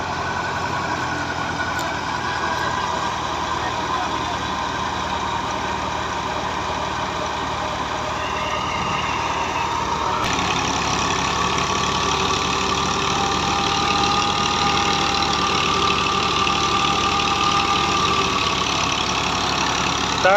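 A Massey 240 tractor engine idling near a wheat thresher at harvest, a steady close mechanical drone with a slight shift in tone about halfway through, and no voices.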